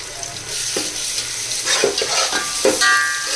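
Ginger garlic paste frying with browned onions for biryani, a close, hissing sizzle broken by a few quick spatula scrapes over a short stretch.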